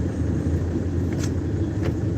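Cabin noise of a car driving along Marcos Highway, a steady low road rumble and engine drone close and constant, with a couple of faint brief higher noises passing through.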